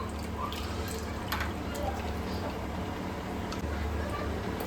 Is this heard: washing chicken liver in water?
yes